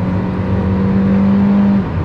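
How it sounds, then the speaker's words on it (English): Kia Carens 1.4L turbo petrol DCT MPV accelerating hard in third gear, a steady, loud engine drone with a sustained rising tone heard from inside the cabin, then easing off near the end. "In third gear, you can be close to 100 kilometers per hour."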